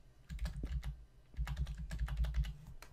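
Typing a test card number on a computer keyboard: quick irregular key clicks in bursts with short pauses, close and fairly quiet, no talking.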